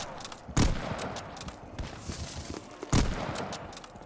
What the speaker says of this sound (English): very much like the fact that this gun is a one-shot to the head